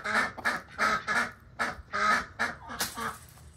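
Ducks quack loudly and close by in a rapid series of about eight calls, each short and nasal, with brief gaps between them.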